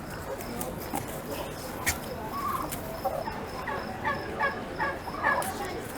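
Turkeys gobbling in bursts at a 2022 poultry show, with several short calls repeating over steady background murmur while people talk nearby.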